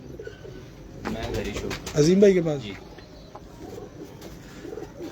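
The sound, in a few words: pigeons cooing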